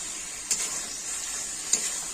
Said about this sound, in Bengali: দেখুন আস্তে আস্তে তেল ছাড়ছে মশলা থেকে। দেখছেন কত সুন্দর করে কষছি।